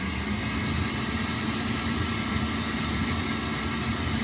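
A 1939 Filter Queen Model 200 vacuum cleaner runs with a steady, even motor drone and airy rush, holding constant and close throughout with no voices.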